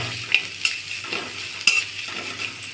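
Onion and green chillies sizzle softly in an oiled pan while a spatula stirs and taps the pan in a few sharp, scattered clicks.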